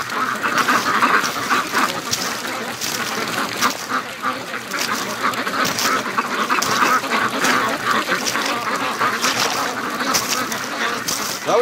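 Ducks quack continuously on a creek, a lively, close chorus of overlapping calls over splashing and movement, with no talk.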